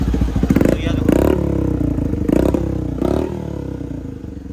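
A Hero Splendor-class Bajaj Platina motorcycle fitted with an aftermarket SC Project silencer cranks and starts up nearby, loud sputtering bursts and a throaty idle with short revs, fading slightly toward the end.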